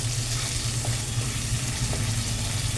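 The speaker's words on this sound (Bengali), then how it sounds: "এটা আমি মশলাটা ভাজবো মশলাটা ভাজা হয়ে গেছে" Spice masala frying in a pan for a Bengali fish-head rice dish: a steady close sizzle of oil with a low hum beneath it and no voices.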